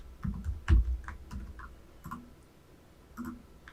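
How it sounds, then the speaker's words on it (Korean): Computer keyboard typing during an HTML and CSS coding session, with a few short bursts of keystrokes, close and fairly quiet, with pauses between groups of clicks. "Alt Shift 쭉 눌러서 로테이트라고 써보도록 하겠습니다"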